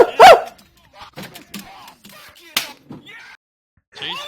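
A dog bark from a video game, Helix, comes as a sharp, loud yelp at the start, followed by short scattered bursts of bark-like and yipping sounds with gaps of quiet between them.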